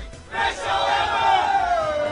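A singer and her dancers give a loud group shout before her 2011 concert in Morocco, a swelling, sustained cheer of many voices together, close and energetic after a brief quiet start.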